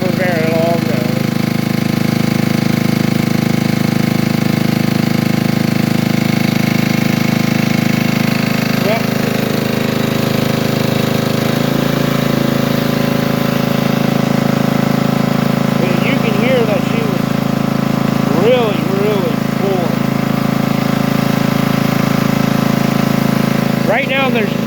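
An old portable generator's engine runs with no load for a long, steady stretch, a loud constant mid-pitched drone with a slight rhythmic pulse and small pitch shifts, with no one speaking.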